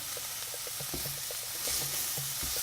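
Ground meat for chili is stirred and broken up in a pan, making a soft, fairly faint sizzle with light scraping and low tapping under it.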